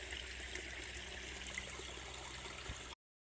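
Water from a stream pool on the Florida Trail flows steadily, a soft continuous rushing trickle that holds even throughout before abruptly cutting off.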